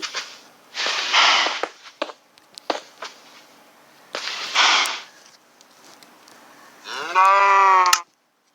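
Cows moo on a farm in Minecraft PE 0.14.0, several separate breathy lowing calls spaced across the clip with clicks and small game sounds between them, ending in one louder tonal moo.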